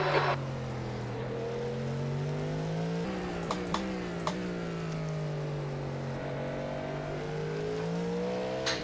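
The engine of a Cadillac GTP race car at Indianapolis in a sim racing video game climbs and drops in pitch through gear shifts, with a sustained, moderately loud whine that sweeps up, cuts, and rises again.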